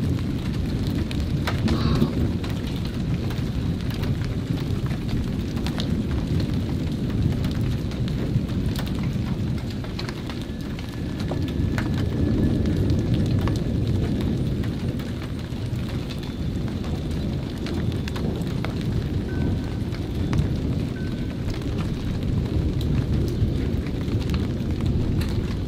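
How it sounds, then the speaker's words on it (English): Steady rainfall with near-constant rumbling thunder from a severe thunderstorm, a continuous loud low roar of rolling thunder over the hiss of light rain throughout, with no talk. "It's barely raining, but it is nonstop thunder."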